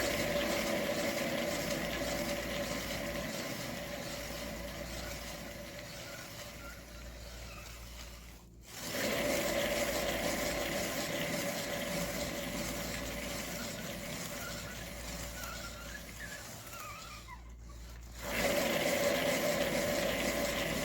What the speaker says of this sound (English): So now we're going to spin it out.